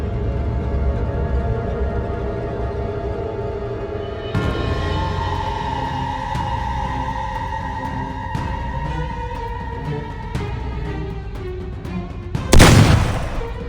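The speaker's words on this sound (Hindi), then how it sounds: "बंदूक से एक तेज धमाका हुआ।" In an animated horror story, a single sharp gunshot bang cracks out loudly near the end, following a long, eerie sustained musical drone with faint ticking accents.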